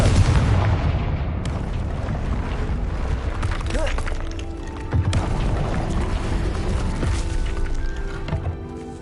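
Confringo blasting spell in Hogwarts Legacy bursts into a loud, rumbling explosion with heavy booming low end, followed by continued crackling blasts and battle noise that sustains for several seconds, with game voices mixed in.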